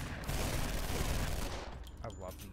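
Dense automatic gunfire from weapons in the shooter game F.3.A.R., a loud continuous burst of rapid shots for about a second and a half, then quieter sounds of combat.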